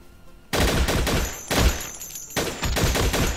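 Turret gunfire in the video game Infectonator Survivors, loud, dense automatic bursts that start after a brief quiet lead-in and keep firing rapidly to the end.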